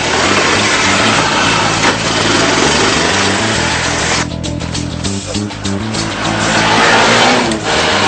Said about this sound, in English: I think we'll just have a quick drive around the block and see what happens.